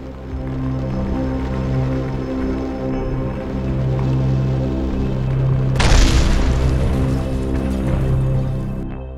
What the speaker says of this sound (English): Once the object nears maximum heat tolerance, it gets damaged, catches fire and is eventually destroyed.